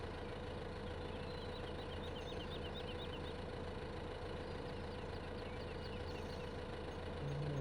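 Small tractor engine idling and running steadily in Farming Simulator 15, a continuous even drone with a faint whine, close and unbroken.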